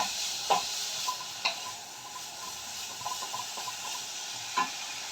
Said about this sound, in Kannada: ಈಗ ಇದಕ್ಕೆ ಬೀಟ್ರೋಟ್ನ ಚೆನ್ನಾಗಿ ಫ್ರೈ ಮಾಡ್ಕೊಳ್ಳೋಣ